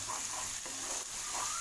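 A paste of onion and spices sizzles softly as it is sautéed in a pan, with a brief low hiss and faint stirring scrapes close by.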